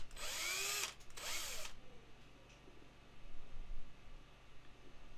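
A power drill boring a hole in a resin model kit whines loudly in two short bursts, a brief pause between them, then stops, leaving quiet room noise.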